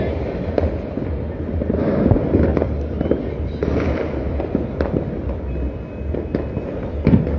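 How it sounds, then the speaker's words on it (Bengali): New Year's Eve fireworks over Dhaka crackle and pop continuously, a dense, busy barrage of bangs with a few sharper cracks standing out. "রাজধানীবাসী তারা কিন্তু বিভিন্ন ধরনের আতসবাজি ফুটিয়ে তারা কিন্তু নতুন বছরকে স্বাগত জানাচ্ছে"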